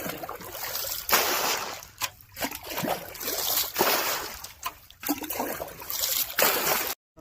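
Water is bailed out of a shallow pool by hand while catching fish, with repeated splashing and sloshing bursts in an irregular rhythm, close and fairly loud, with no talk.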